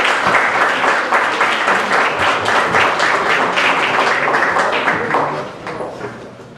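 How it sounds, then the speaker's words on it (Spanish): Strong applause at a Nuevo León society assembly: a room full of people clapping steadily and loudly, with individual claps audible in the mix, gradually dying down at the end. "Un fuerte aplauso para él."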